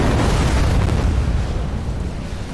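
A building blown up in the strategy video game Halo Wars 2 produces a loud, deep rumbling explosion that fills the whole moment and then slowly tapers off.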